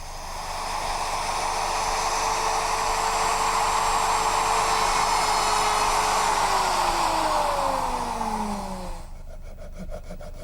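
A router fitted with a ball-bearing V-groove bit follows a template while shaping a wooden child's high chair, a loud, close, continuous whine whose pitch sags near the end before it cuts off abruptly.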